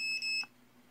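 A digital multimeter set to diode mode gives a single steady electronic beep as its probes find a short on a component pin during circuit repair. The tone lasts under half a second, then the room falls quiet.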